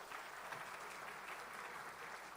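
Audience applause after a performance by NCC cadets at a civil reception honouring the armed forces, a steady wash of clapping from a crowd that holds evenly throughout without voices.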